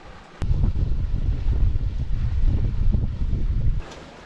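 Wind buffets the microphone aboard a sailboat at sea in about 10 knots of breeze. The low roaring gusts are loud and continuous, with water rushing underneath, and they ease off near the end.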